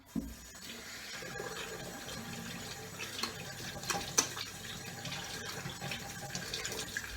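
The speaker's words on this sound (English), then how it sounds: "I'm just going to wash my hands because it's not fun." Hands being washed under a running kitchen tap while making cookies: a continuous rush of water into a sink, with small splashes and shifts as the hands move through the stream, no talk.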